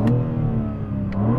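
A BMW M4 Competition engine revving loudly and steadily close by in an enclosed space during a sound check, with a brief higher-pitched sharp note near the start and end.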